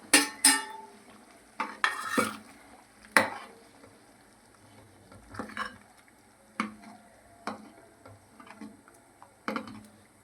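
Fried paneer stirred into sizzling masala in a pan, with a soft steady sizzle under a series of spoon scrapes and clinks against the pan, close and irregularly spaced.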